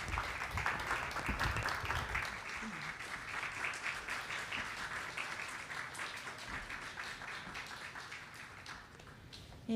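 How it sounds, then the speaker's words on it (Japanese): A lecture-hall audience at a glass art museum claps steadily to welcome a speaker, a dense, even wash of applause that fades slightly toward the end. "皆様大きな拍手でお迎えください"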